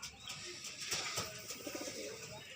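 Pigeons cooing on a farm, soft repeated coos mixed with other bird chirps against steady outdoor background noise, no one talking.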